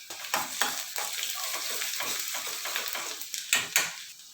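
Garlic sizzles and crackles in hot oil in a pan, a steady frying hiss with bursts of spitting and occasional stirring clatter, close and continuous throughout.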